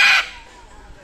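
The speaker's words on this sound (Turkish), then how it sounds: "Burada bizi çok sevimli bir papağan karşılıyor." A parrot at the entrance of Damlataş Cave in Alanya lets out a single short, loud, shrill squawk at close range, which is followed by a quiet stretch.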